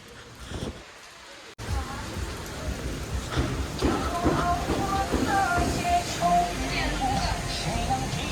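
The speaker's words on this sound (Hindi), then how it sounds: "और बारिश हो रही है।" Steady rain patters on a street in Guangzhou, China, a continuous hiss with low traffic rumble and some voices underneath.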